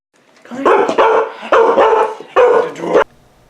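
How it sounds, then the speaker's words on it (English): A dog barks loudly and close by in a quick run of several harsh, overlapping barks and yips, with no one talking. "Right now, there's a dog waiting to be played with"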